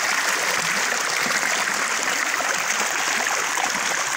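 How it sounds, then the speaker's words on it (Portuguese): A small stream runs through a creek bed below a waterfall, giving a steady, soft hiss of flowing and splashing water with no speech. "Olha o som da água."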